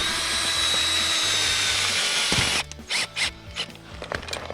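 A cordless drill drives an ice anchor into frozen lake ice on an ice-camping trip. A continuous whirring grind runs for a couple of seconds, then gives way to several short, clattering bursts.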